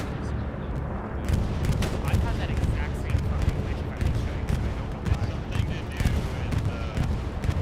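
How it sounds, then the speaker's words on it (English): Bombing run in a Battlegrounds-style war video game: a dense, continuous barrage of explosions and gunfire roars for several seconds, loud and close, with layered blasts rumbling over each other. "Let's see how this bombing run fares."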